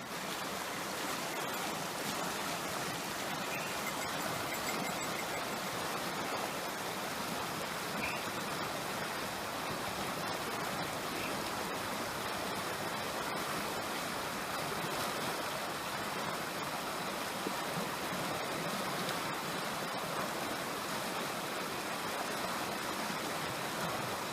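A deep mountain river at a hiking crossing near Loomis Lake in Don Getty Wildland Provincial Park rushes in a continuous, loud wash of water that stays even and close throughout, with no talking.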